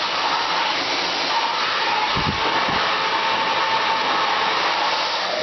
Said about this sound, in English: Another reason why I blow dry the hair while I'm twisting it